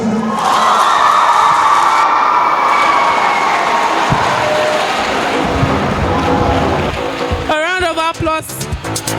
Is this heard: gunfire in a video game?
no